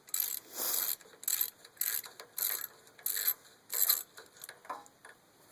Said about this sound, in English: 1/2-inch drive socket on the starter bolts.